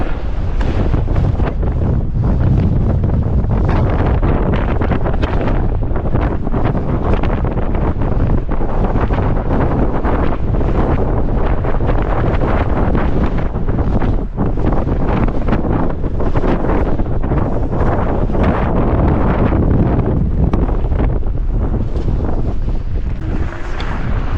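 Loud, constant wind buffeting the microphone with a roaring, rumbling rush that never lets up, on a cold, very windy mountain.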